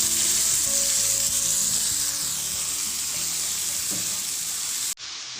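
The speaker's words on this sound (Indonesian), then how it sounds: "Kemudian bumbu digoreng sampai benar-benar matang dan harum." Ground spice paste frying in hot oil in a pan for Lombok-style ayam rarang, a steady close sizzle with light stirring scrapes that cuts off abruptly at the end.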